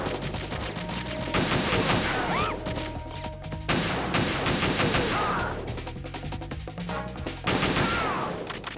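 Rapid gunfire in a Metal Gear video game, with repeated bursts of shots that fill the scene and pause briefly between volleys. Game effects and music sit underneath, and no one speaks.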